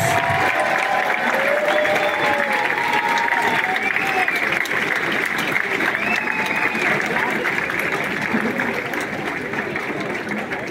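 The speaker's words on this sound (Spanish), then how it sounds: "Aplauso para todos y doble para los deportistas paralímpicos" Sustained applause from an audience at a ceremony honoring athletes and Paralympic athletes in Mexico City, a steady, full wash of clapping that holds throughout with faint voices mixed in.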